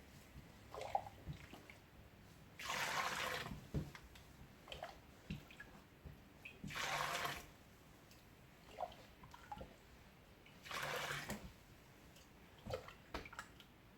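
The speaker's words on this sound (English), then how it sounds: "we're just gonna dip the jug in and strain it into this large bowl" Liquid pours in three long bursts as chicken bone broth with chicken feet is strained from a jug through a strainer into a large bowl, separated by quieter drips and light handling clatter.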